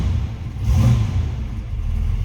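The deep, steady V8 engine of a 1968 Ford Mustang GT 390 Fastback rumbles close by, swelling briefly in a short rev before settling back to an even idle.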